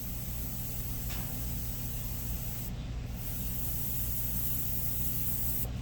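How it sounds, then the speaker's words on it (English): Airbrush with a triple-action handle releasing a fine paint spray: a steady, even hiss of air and paint that stays continuous and close throughout, with no voices. "What you can do is you can just barely have paint that sneaks out of the airbrush."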